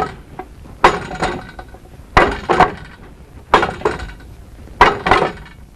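Kicks landing on a Wing Chun wooden dummy during a martial arts drill, four sharp woody impacts in a steady rhythm, each strike followed by a quick second knock and rattle, close and loud.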